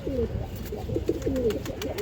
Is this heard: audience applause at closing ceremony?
no